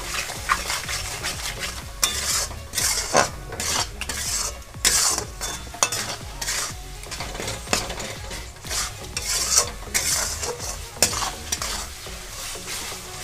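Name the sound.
spice paste being stirred and fried in pan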